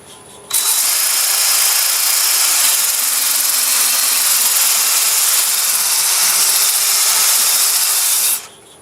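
A sanding disc whirs steadily against a wood turning spinning on a lathe, a constant high hiss that starts abruptly, runs evenly for about eight seconds, then cuts off.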